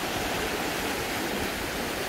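Steady, even rush of a stream flowing beside a walking path, close and continuous with no talk.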